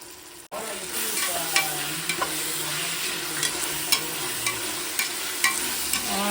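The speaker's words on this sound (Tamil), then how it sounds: "இஞ்சி பூண்டு போட்டுக்கலாம் இப்போ" Ginger and garlic fry in a pan with a steady close sizzle, punctuated by regular scraping knocks of a spoon stirring, after a brief cut near the start.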